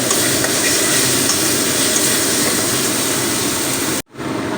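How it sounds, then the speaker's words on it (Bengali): Ginger-garlic paste and spices frying and being stirred in a pan for spinach dhoka, a loud steady broadband sizzle that runs unbroken and then drops out abruptly near the end. "পেস্ট আদা রসুন একই সঙ্গে পেস্ট করা আছে তো দিয়ে আমি একই সঙ্গে মশলাগুলো কষিয়ে নেব"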